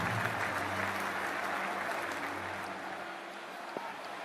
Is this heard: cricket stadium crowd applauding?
yes